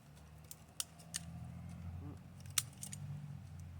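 A dull blade cutting extra twine off a firewood bundle, a few faint sharp snips and clicks spread over a low steady background hum.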